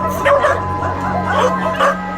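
Dogs rescued from a meat farm bark and yelp in several overlapping bursts, loud and close, over a steady low hum.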